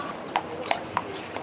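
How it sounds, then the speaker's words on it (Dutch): Horse hooves clip-clop on hard ground as the animal is led to inspection at an equestrian competition in Kentucky, four crisp, close strikes at an uneven pace with no talking. "Kijk, mijn groom die gaat met het paard richting de keuring."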